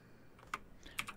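A few soft clicks of keys on a computer keyboard while writing game code, close and quiet, in two small clusters with no talking.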